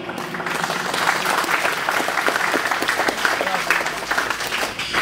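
A crowd at a prize-giving ceremony claps loudly and continuously, a thick, sustained applause filling the room throughout.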